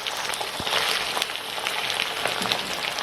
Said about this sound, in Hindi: ये थोड़ा सा हम इसमें भूनेंगे